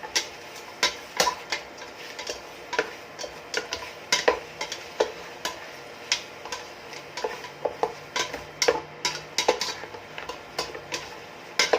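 Chicken adobo with onion and garlic stirred in a pan without oil, irregular clacking spatula taps and scrapes against the pan over a faint sizzle, close and distinct.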